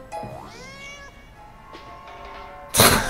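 A cat meows in a video game: several drawn-out, rising and falling meows close up, followed by a sudden loud burst of noise near the end, with no talking.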